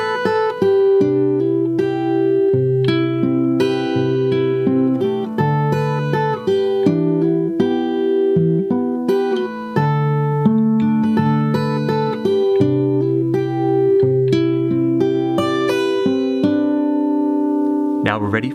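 Guitar plays the first three sections of a song slowly, alone and close, as a continuous run of ringing plucked notes and chords at an even, unhurried pace.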